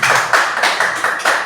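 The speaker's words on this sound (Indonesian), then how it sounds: "Lebih tepuk tangan untuk Bu Winda" Small group clapping at a school dissemination event on positive culture, with a few distinct rhythmic bursts of hand claps, fairly close and moderately loud, no talk.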